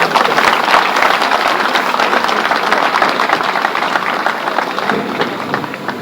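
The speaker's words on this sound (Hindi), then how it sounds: "जोरदार तालियां" Loud, sustained applause from a large audience at a formal ceremony honouring a guest of honour, dense clapping filling the full six seconds without pause.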